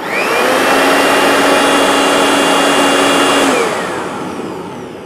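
A homemade turbo wood-burning stove's blower fan spins up and holds a loud, steady whine with a strong airy rush for several seconds, then eases off slightly toward the end.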